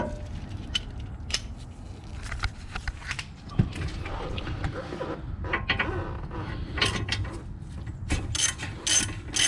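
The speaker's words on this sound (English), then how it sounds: "now I can just back them out with a regular socket" Socket wrench ratcheting as brake bolts on an Audi A7 (C7) front brake are backed out with a regular socket, a series of quick close clicking bursts with scraping metal handling between them, no voices.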